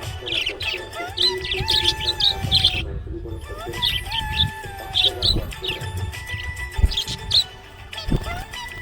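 A pet budgie chirps happily in quick, bright repeated bursts, close and fairly loud, with short pauses between the phrases of tweets.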